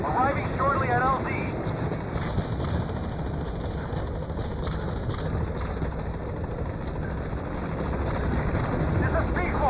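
Helicopter B-Quad arriving at a landing zone in Metal Gear Solid V, a steady loud rotor and engine drone that stays constant throughout, with a voice speaking over it.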